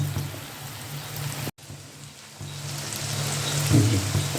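Tomatoes for a chicken kofta curry cooking in a pan, giving a steady close sizzle like light rain that briefly cuts out, then returns and grows slightly louder, with no voices.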